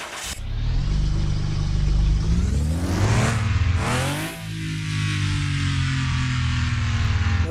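A BMW E46 M3 engine in Car Mechanic Simulator revs loud and close, its pitch climbing in sweeps, briefly dropping near the middle before building again into a steady high-rev drone.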